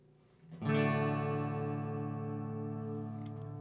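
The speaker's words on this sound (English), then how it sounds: "It's spring reverb." A single electric guitar chord, played on a Telecaster with no pedals, rings out through an Ashdown G40R amp, swelling with a springy, splashy spring reverb tail that sustains and slowly fades.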